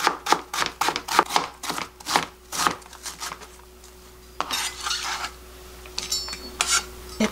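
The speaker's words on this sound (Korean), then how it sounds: "채를 쳐볼게요" A knife taps rapidly on a cutting board while julienning a small amount of Korean radish (mu). Quick, sharp, close strokes come in a steady run, then give way to quieter scraping and rubbing of the board.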